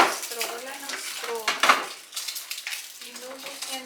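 Washing dishes in a home kitchen while cleaning out a fridge: close clinks and scrapes of crockery and utensils in quick, irregular knocks, fairly loud, with no talking.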